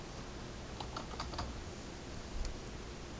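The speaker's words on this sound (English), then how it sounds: "I'm going to type in the predefined password." Password being keyed in on a computer keyboard, a short run of light, close clicks spread over a few seconds against steady background hiss, with no talking.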